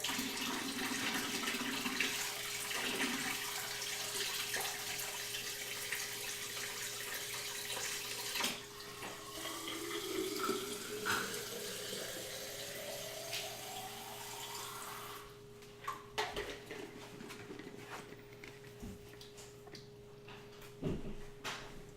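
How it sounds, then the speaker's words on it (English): Kitchen tap running steadily as a glass or bottle is refilled with water, a continuous near rush whose tone shifts as the vessel fills, then stops, leaving faint clinks and quiet room noise. "Just grabbing a refill of water."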